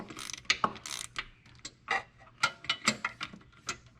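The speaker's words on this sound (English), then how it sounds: "I'm using this long socket, deep socket 17 with a breaker bar to break them loose" A breaker bar on a deep 17mm socket cracks loose the torque converter bolts on a BMW E90 during a manual transmission swap, giving a handful of sharp metallic clicks and clunks spread unevenly over a few seconds, close up with no voice.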